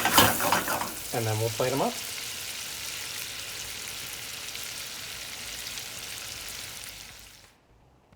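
Scallops sizzle steadily as they are basted in butter in a hot pan, a bright continuous frying hiss with a short spoken line near the start, fading away at the very end.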